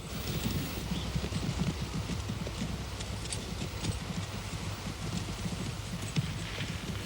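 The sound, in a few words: horse hooves clip-clopping, radio drama effect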